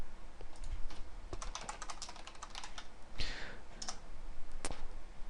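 Fingers type on a computer keyboard in rapid, irregular bursts of close, crisp key clicks, with a louder keystroke now and then and a few short pauses between runs.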